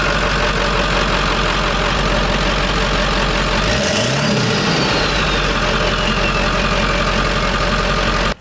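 A Ford 7.3L Powerstroke diesel with a 5-inch turbo-back straight pipe idles loudly with a deep, rough rumble, briefly revving midway before settling back into its steady clatter.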